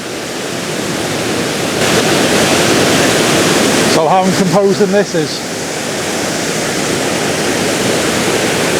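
A waterfall at Betws-y-Coed in Snowdonia rushes with a constant, loud roar of falling water, and someone speaks briefly over it partway through.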